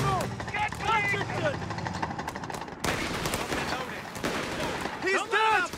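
Machine-gun bursts and rifle fire crackle through a Company of Heroes 3 battle, with dense rapid gunfire under loud shouted soldier voices and a deep rumbling background.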